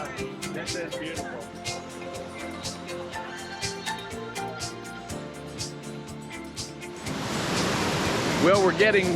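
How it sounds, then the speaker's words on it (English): Water rushing from many falls at Krka National Park near Split, Croatia, a steady broad roar that swells louder toward the end, with people talking over it throughout. "these are some of the most beautiful waterfalls. It seems like water's coming from everywhere."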